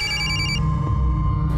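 A telephone rings with a steady electronic trill, loud and close, continuing without any voices.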